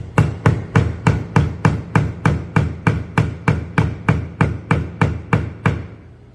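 A hammer strikes a glued wooden chair joint in a fast, even rhythm, around twenty sharp knocks in a row, loud and close, before stopping.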